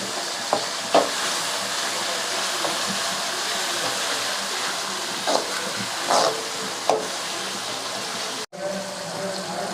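Tomatoes and onions sauté with salt for a quail gravy, giving a continuous moderate sizzle and hiss up close, with occasional spoon scrapes and taps against the pan and a brief sharp knock near the end.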